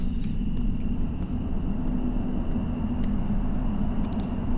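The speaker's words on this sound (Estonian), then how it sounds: "Nii auto tuleb." In the horror video game Fears to Fathom: Norwood Hitchhike, a car approaches at night as a steady low engine rumble and road hum fill the whole stretch, continuous and moderately loud with no voices.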